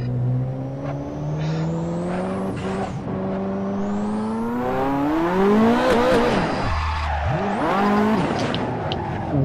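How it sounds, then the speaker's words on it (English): A Ferrari F40 Stage 3 being drifted, engine revving hard and rising in pitch while tires squeal and skid loudly throughout, with a brief dip and surge near the end. "If you try and drift an F40 Stage 3, you're gonna have a bad time."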